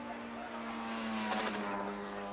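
Yamaha and Suzuki racing motorcycles in 1977 at Oulton Park scream past with a high, steady engine whine that rises briefly in a close pass.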